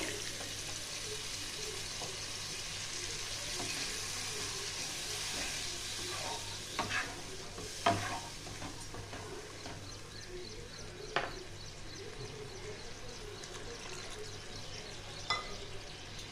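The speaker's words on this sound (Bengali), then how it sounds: "মশলাটা আমার কষানো হয়ে গেছে। এবার আমি জল দিয়ে দেবো।" Spiced masala for a Bengali-style raw banana kofta curry sizzles steadily in a pan as water goes in, with a few sharp clinks of stirring scattered through the continuous frying hiss.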